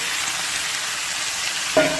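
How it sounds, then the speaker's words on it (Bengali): Chicken pieces fry in spiced masala in a pan, giving a steady close sizzle and hiss, with a brief clatter or stirring knock near the end. "দেখো এখন আমি আমার চিকেনগুলি এখানে ঢেলে দেবো"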